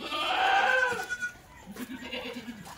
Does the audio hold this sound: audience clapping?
no